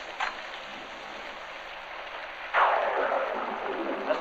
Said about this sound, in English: Mr. Carroll, it is raining pretty heavily outside.